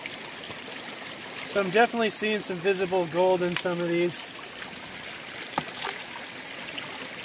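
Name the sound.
flowing stream water while gold panning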